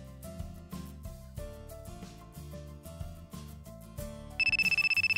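At night, a phone ringtone suddenly cuts in over soft melodic background music, a bright, rapidly pulsing electronic ring that starts near the end and stays loud.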